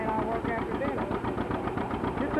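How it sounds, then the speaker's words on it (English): A 1936 John Deere Model A tractor engine runs steadily at a threshing demonstration on a farm, a continuous low chugging rumble with a slight knock, loud and close throughout. "36A model John Deere. Oh yeah, sure running smooth."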